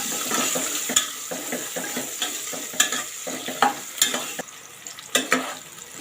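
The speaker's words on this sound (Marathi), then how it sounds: "एक कांदा मी उभा स्लाइस करून चिरून ठेवलेला आहे तो घालत आहे परतून घेऊया" Vertically sliced onion sautéing in a pan for green pea pulao, with a steady sizzle broken by a regular series of scraping, clattering stirs that keep a rhythm.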